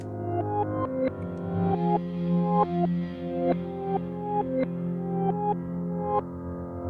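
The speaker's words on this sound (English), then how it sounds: "And then what I can do is I can just reverse the audio and it sounds like this." A reversed melody with swelling notes that build and cut off abruptly, a steady pulsing sequence of tones over a low sustained drone, fairly loud.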